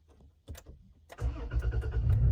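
A 3rd generation Toyota Tacoma engine cranks briefly, catches and settles into a steady low idle, heard up close with no talking.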